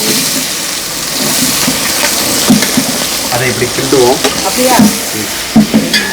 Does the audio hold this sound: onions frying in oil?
yes